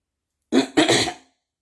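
Two quick, harsh coughs close together, loud and near, then silence.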